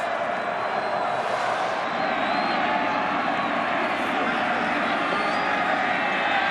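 Football stadium crowd at a 1998 CFL West Semi-Final, BC Lions at Edmonton Eskimos, a continuous loud roar of cheering spectators during a kickoff return, with a commentator talking over it.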